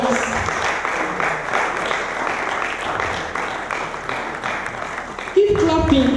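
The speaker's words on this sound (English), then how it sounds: "Please keep clapping till he comes." Conference audience at an Africa NFT metaverse event clapping steadily as a co-founder walks up to speak, sustained crowd applause that ends in a louder burst as a voice cuts in near the close.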